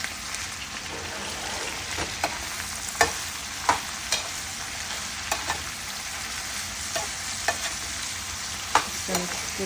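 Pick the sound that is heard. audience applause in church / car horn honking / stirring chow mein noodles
stirring chow mein noodles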